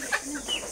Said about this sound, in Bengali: এটা খুললে মুরগি বের হয়ে যাবে